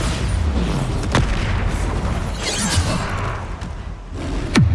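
A Bombarda spell blast in Hogwarts Legacy, heard as several booming explosive bursts with whooshing swells, including a loud close impact near the end, over continuous game noise.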